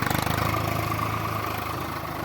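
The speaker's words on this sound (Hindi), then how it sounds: "ट्रैक्टर जो है गोल गोल घूम के भी खेती की जुताई करता है" A tractor ploughing a farm field runs with a steady, rhythmic chugging engine throb, close and moderately loud with no voices.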